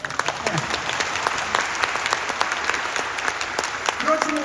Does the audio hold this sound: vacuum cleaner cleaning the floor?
no